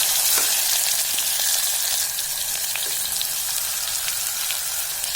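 Potatoes and tomato fry in a pan for Marathi masale bhat, giving a loud, continuous sizzle with scattered crackles and pops. The sound eases slightly partway through, and no one speaks.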